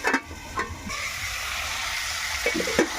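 Chicken curry simmers and sizzles in a pan while a spoon stirs it, with several sharp scrapes and clacks over a soft, continuous hiss.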